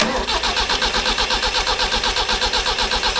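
An old Toyota 18R engine in a Hilux cranks over on the starter without firing, a close, loud, even chug of regular compression pulses about six per second throughout.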